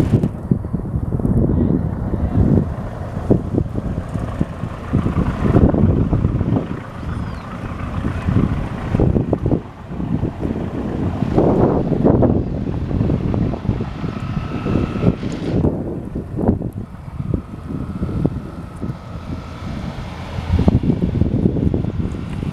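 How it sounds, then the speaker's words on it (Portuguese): Steady boat engine rumble as boats arrive on the Paraíba do Sul river at São João da Barra, Brazil, mixed with heavy wind buffeting the microphone, continuous throughout with little change. "Chegada dos barcos."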